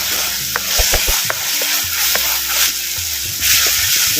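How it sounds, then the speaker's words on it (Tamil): Ginger garlic paste sizzles and fries in hot oil for a Chettinad-style chicken liver fry, with a steady hiss and irregular scraping knocks as it is stirred in the pan; nobody speaks. "இஞ்சி பூண்டு விழுதுகளை அப்படியே சேர்த்து அப்படியே எண்ணெயில் இப்படி ஒரு பரட்டு இப்படி ஒரு பரட்டு பரட்டி"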